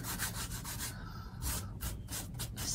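Hand sanding of a painted metal file cabinet: rhythmic back-and-forth rubbing strokes, close and fairly quiet, in several short bursts with no talking.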